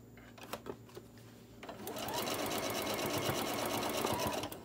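A sewing machine stitches insulated fleece for bottle and can koozies, a few separate needle taps first, then a steady close rapid chatter running for a couple of seconds.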